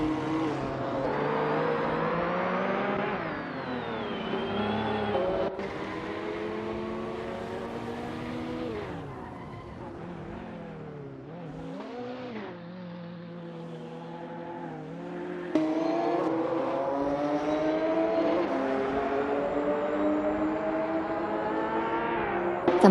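A 1996 Porsche 911 GT1 and other race cars roar in an AI racing video game, engines climbing and dropping through repeated gear changes, loud and continuous with layered engine tones and no talk.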